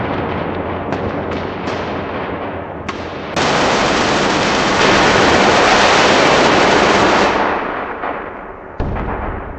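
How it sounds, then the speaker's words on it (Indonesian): Heavy booming cannon fire from Dutch ships bombarding a harbor rolls in dense, continuous volleys, swelling into a roaring barrage of blasts before tapering off, loud and close. "Meriam Belanda membombardir pelabuhan, membakar gedung-gedung."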